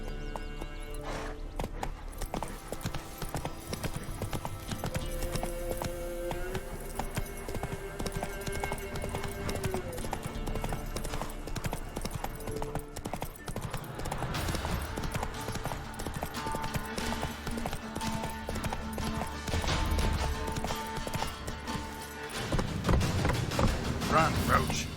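Roach, the horse in The Witcher 3, gallops with a steady, rapid clip-clop of hooves that lasts the whole stretch. Game music plays under it, a shouted voice is heard, and the sound swells louder near the end.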